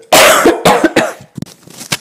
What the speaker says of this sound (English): Excuse me a moment, cough.